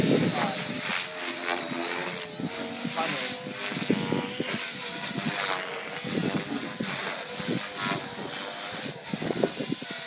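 A Blade 450 X radio-controlled helicopter flies outdoors on a windy day, its rotor giving a steady, buzzing whine that rises and falls slightly. Voices talk over it.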